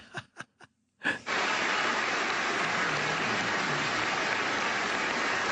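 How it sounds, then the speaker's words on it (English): Applause for a speech by New York Mayor de Blasio or Governor Christie, a steady broad wash of clapping that starts abruptly after a few short breaths and continues alone. "Applause"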